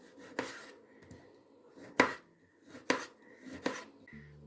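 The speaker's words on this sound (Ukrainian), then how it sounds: "Тепер ріжу помідорку." A knife slices through a tomato on a cutting board, giving several separate crisp cuts spaced about a second apart, each ending in a sharp tap against the board.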